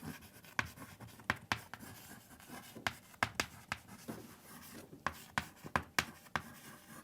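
Someone writes on a board during a physics lecture on gravitation, producing a series of sharp, quiet strokes and taps in uneven bursts, about a dozen in all, with no speech.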